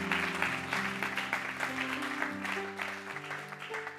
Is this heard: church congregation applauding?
yes